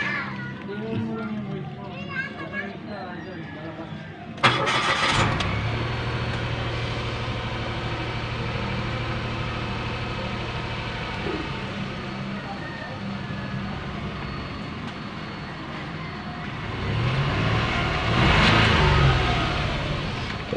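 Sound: Mitsubishi Mirage G4 engine being started again

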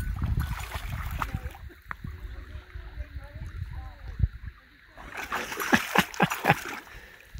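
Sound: dog splashing in lake water, picking up a rock

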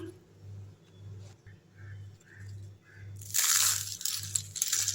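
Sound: crunchy murukku snack being bitten and crumbling

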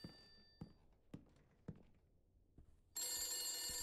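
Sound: telephone ringing in video game The Beast Inside

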